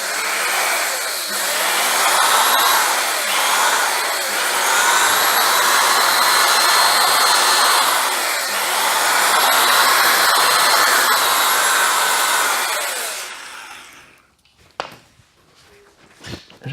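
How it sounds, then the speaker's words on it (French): A diamond grinding tool runs across a wet floor, water used as lubricant, stripping the top layer: a loud, steady whirring grind lasting about thirteen seconds, then cutting out to near silence with a few faint knocks. "Je vais mettre l'outil diamant dessus."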